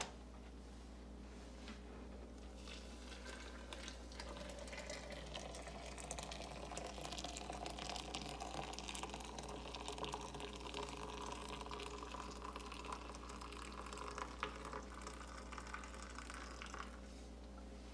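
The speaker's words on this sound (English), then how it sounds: "I'm going to pour the same amount of water" Water pours steadily onto coffee grounds, with ground coffee compared against pre-ground, as a continuous soft trickling stream lasting most of the stretch over a low background hum, with no talking.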